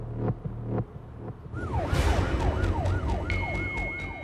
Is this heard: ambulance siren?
yes